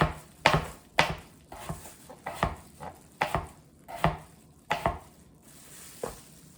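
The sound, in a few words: slicing potatoes with a knife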